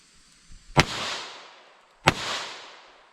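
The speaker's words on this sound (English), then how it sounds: "Let's hit each of these sections here with 2 of each, and we'll start with our 32 long." Two loud, sharp gunshots from a short-barrel .327 revolver firing .32 Long rounds into wood and cantaloupe, about a second apart, each cracking close by and trailing off into an echo.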